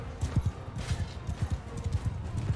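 Steady clip-clop of horse hooves from a rider's mount in Mount & Blade II: Bannerlord, a close, regular rhythm of thudding footfalls running throughout, with faint background murmur.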